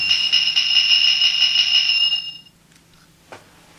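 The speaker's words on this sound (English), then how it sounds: "switching on, we get the confirmation sound." A loud, shrill electronic tone rings steadily for about two seconds from a Kamen Rider DX Lock Seed toy transformation belt, then cuts off, followed by a soft click.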